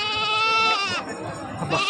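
A Sirohi goat bleats loudly and close at a livestock market, two drawn-out wavering calls with a short break between them.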